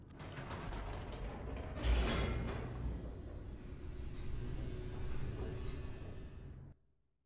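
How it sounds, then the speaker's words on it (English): An elevator descending in The Stanley Parable: Ultra Deluxe, producing a continuous mechanical rumble with creaking and ratcheting, a heavier clunk near the start, then steady grinding until it cuts off abruptly. "The elevator raced downward,"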